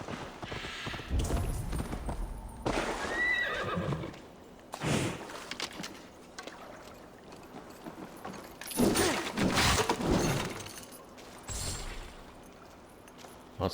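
Horse hooves in the game Assassin's Creed Valhalla: a steady run of clopping hoofbeats at moderate volume, with a faint whinny and game ambience around them.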